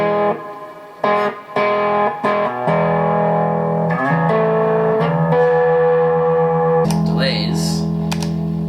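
Electric guitar through reverb and delay pedals: a few choppy strums give way to long, washed-out sustained notes that trail and bloom, with some scratchy sounds near the end.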